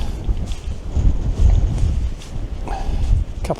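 Strong gusting wind buffets the microphone on an exposed Lake District fell, a loud continuous low roar with surging blasts and no speech.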